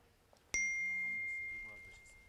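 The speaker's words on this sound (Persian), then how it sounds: "آقا اسمس اومد" An SMS text message notification ding sounds once, a sharp bright chime that rings on with a clean sustained tone and slowly fades, over a quiet background with faint voices.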